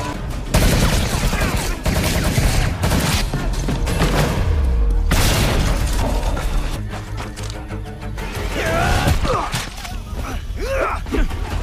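Gunfire bursts and a heavy explosion rip through an action-film battle scene with mercenaries, with rapid loud shots, booming thuds, groans and a brief voice amid dense chaotic noise.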